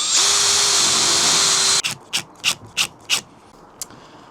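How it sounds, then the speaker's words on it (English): A chop saw cuts a wood piece for a skylight fitting in a Ford Transit Custom camper conversion, one loud sustained cut that spins down, followed by several short knocks and taps nearby. "But the closest thing I've got is a chop saw."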